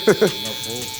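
A Stylecraft Rebel trimmer buzzes while balding out a client's hair in a barbershop. It gives a steady, close, high-pitched electric whine throughout, with a short burst of talk at the start.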